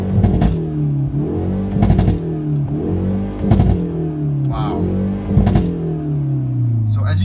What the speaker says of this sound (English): hear basically the exhaust popping at the back. It's extremely loud, it's extremely powerful